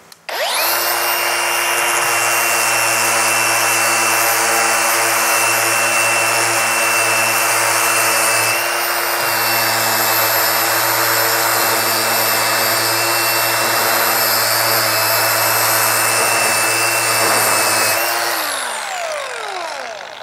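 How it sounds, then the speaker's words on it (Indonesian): Dongcheng DCMS03-100 battery angle grinder, guard and side handle removed, running a sanding pad across a surface: a loud, steady high-pitched motor whine with abrasive rubbing for about eighteen seconds, then spinning down at the end. "Untuk mengamplas kita bisa gunakan sanding pad seperti ini ya"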